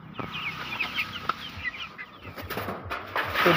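Native chickens cluck and chatter nearby in short, irregular bursts, with a few sharper squawks and some rustling toward the end.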